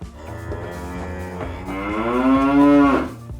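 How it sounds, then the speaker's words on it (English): A Mooshroom cow from Minecraft moos once in a long, drawn-out call that swells and rises in pitch toward the end, loud and close with nothing else over it. "Mooshrooms are unique types of cows that seem to have become one with their biomes"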